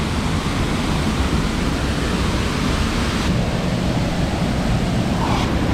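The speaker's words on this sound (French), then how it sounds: "C'est la cascade, small cascade." A small waterfall in the Philippines pours in a steady, close rushing wash of falling water that runs without a break, loud and even throughout.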